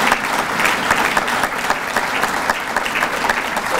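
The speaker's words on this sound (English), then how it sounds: "Can we give her another round of applause?" Audience at a tennis hall of fame induction ceremony breaks into loud, sustained applause, a dense close wash of many hands clapping without pause.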